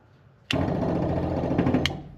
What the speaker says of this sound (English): when I put the key in here and turn it, it ought to run the fuel pump